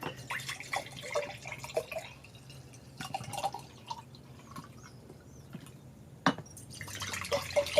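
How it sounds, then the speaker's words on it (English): Lemon juice pours and drips into pint canning jars set out beside a water bath canner, a faint run of small splashes and droplets, scattered and irregular, with a few sharper clinks near the end. "let me go ahead and put all of this juice in the jars"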